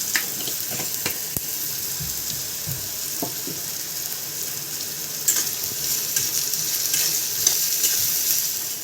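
Chopped onion with a pinch of salt fries in a pan, giving a continuous close hiss with a few light taps and scrapes scattered through it.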